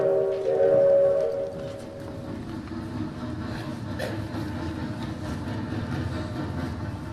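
A train sound effect in a high school stage play rumbles past with a low continuous roar and faint rhythmic rattling, starting slightly louder with a tonal squeal before settling into steady noise.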